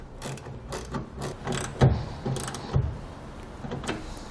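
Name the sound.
socket wrench ratcheting while tightening tonneau cover clamp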